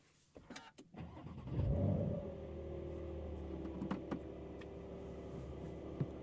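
A 2025 Porsche 911 Carrera T flat-six starts from inside the cabin: a few clicks, a short starter whirr, a loud rising flare, then a steady close idle with small mechanical ticks.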